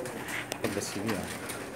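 Pigeons coo softly nearby, a few low rolling coos over a quiet background, with a voice speaking faintly alongside.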